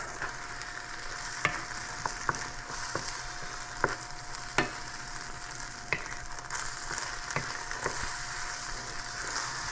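Peppers and eggs fry in a pan for a pepper and egg sandwich, a steady broadband sizzle with sharp spatter pops and occasional utensil ticks throughout, close and moderately loud with no talking.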